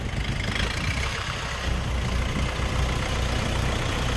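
A Jinma 404 tractor's engine idles and rumbles steadily nearby as it pulls up for loading, a constant low drone with no voices.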